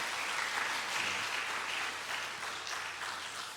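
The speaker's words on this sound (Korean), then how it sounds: "우리 박수로 한번 격려하도록 하겠습니다" A church congregation at a Sunday morning service applauds its teachers and small-group leaders, a steady even wash of clapping filling the room for the whole span.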